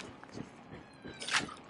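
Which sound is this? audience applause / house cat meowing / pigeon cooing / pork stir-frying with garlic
house cat meowing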